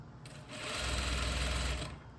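A sewing machine stitches a seam on fabric in one continuous run of about a second and a half, its needle whirring up to a steady buzz and then stopping.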